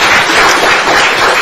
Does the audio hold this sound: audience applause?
yes